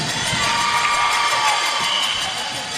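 A basketball crowd at an all-star game cheers and shouts after a steal, a steady wall of loud voices and whoops that holds without a break and fades only slightly at the end.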